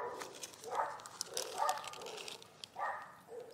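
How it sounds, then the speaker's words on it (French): Several dogs bark intermittently in the distance, faint repeated bursts spread across the clip with some quieter yips between them. "c'est bien de pouvoir se reposer avec plein de chiens qui aboient là"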